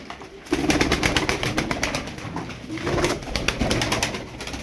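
Rapid bursts of wing clapping and flapping from Arab tumbler pigeons taking off and circling, with soft cooing underneath, in a busy outdoor setting.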